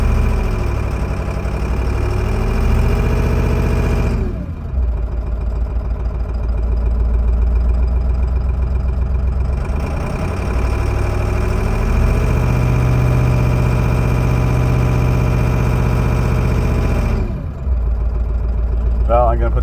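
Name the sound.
2002 Ford F350 7.3 diesel engine idling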